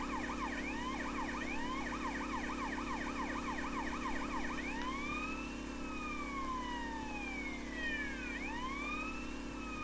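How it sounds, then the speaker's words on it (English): A wailing emergency vehicle siren in the PS4 version of Grand Theft Auto San Andreas sweeps up and down in fast repeating cycles, then shifts to slower long wails, steady over a constant engine hum with no talk. "I can never get that siren off, no matter how much I press L3"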